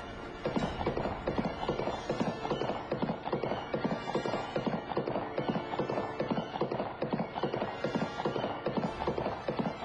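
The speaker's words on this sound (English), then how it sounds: "Archite wins the joust and rides around on his steed as Palamon is removed from the field." A knight's steed clip-clops steadily around a jousting arena, its hooves striking in a brisk, even rhythm with an occasional whinny, heard fairly close and clear.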